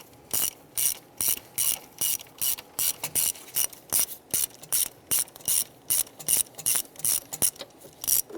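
A ratchet clicks in quick regular bursts, close and fairly quiet, as ignition coil capture bolts are loosened on a 2002-2008 Dodge RAM, each stroke a short rasping run of pawl clicks.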